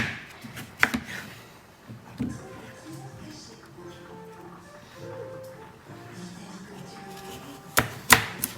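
Several sharp knife chops through pumpkin against a cutting board, a few near the start and a loud cluster near the end, with quiet room sound between.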